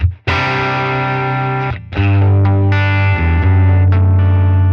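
Electric Sir Classic T guitar on its bridge pickup through a Helix amp and cab model, strummed in loud, distorted chords that ring out with a brief gap before the next chord, sustained and full.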